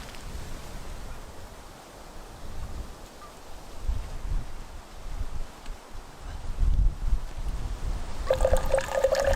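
A small flask of 40 Creek cream liqueur is poured into coffee at a snowy winter campsite, a soft liquid trickle over steady wind-like outdoor noise, with a clearer splash near the end.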